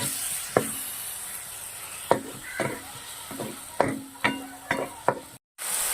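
Tomato paste being mixed into a peas chaat in a frying pan, with a steady sizzle and a series of sharp spoon clacks and scrapes against the pan, no voices.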